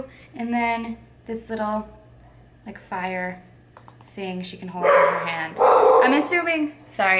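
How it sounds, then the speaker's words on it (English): A pet dog barks and yips repeatedly in a room while someone talks over it, the barks loud and close, breaking out in short bursts and a louder cluster near the end. "that's my dog."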